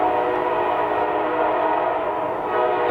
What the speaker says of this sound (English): Hey, train's here.